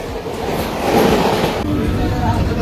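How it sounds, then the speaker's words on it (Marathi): Rattling, rumbling interior of a moving Mumbai-area local train near Dombivli, loud and continuous with a steady roar and faint clatter of wheels, with crowd noise and voices mixed in. "आताच ट्रेनमध्ये बसलोय डायरेक्ट"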